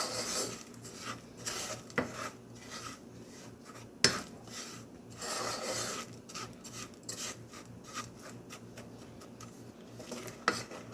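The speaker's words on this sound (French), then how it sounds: "إذا نستمر في تحريك الكراميل تاعنا." A utensil stirring melting caramel in a saucepan, making a steady rasping scrape against the pan with occasional sharp clinks, close and fairly quiet, with no talking.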